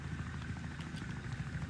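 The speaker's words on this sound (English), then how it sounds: "Oh, it's raining." Rain falling in the video game Wobbly Life, a faint, steady patter and hiss with no voices.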